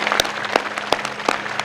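A small group at a yoga and pranayama session claps in steady unison, about five sharp, loud claps spaced roughly a third of a second apart over a faint background hum.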